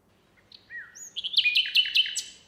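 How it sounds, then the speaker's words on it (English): A house sparrow gives a rapid series of bright, chirping notes, starting with a few thin calls and building into a busy burst of chirps. "that's our house sparrow"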